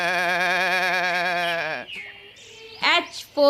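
A goat gives one long, wavering bleat lasting nearly two seconds, loud and near, followed by brief, scattered sounds that are likely voices.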